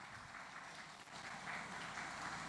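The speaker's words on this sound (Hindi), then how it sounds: "थोड़ा ताली बजाते रहिए, अच्छा लगता है।" Audience clapping at a wedding sangeet, a steady dense wash of applause that swells slightly toward the end, heard alone without talk.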